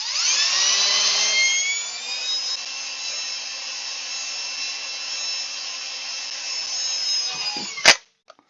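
A power drill bores holes with a 1/8 inch bit while modifying a MoJack EZ lift, a steady high whine running about eight seconds at close range, then stopping abruptly with a brief clack.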